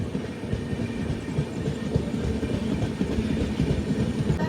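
The Anakapalle to Secunderabad Special Fare Express, train 07056, rumbles along at speed with dense clattering wheels on rails and a steady, loud roar heard from on board.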